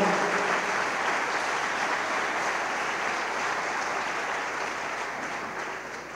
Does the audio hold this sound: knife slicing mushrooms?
no